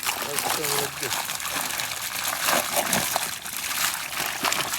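Water splashes and sloshes loudly and close by from a fishing boat as a large eel is hauled in, churning continuously while voices talk and shout over it.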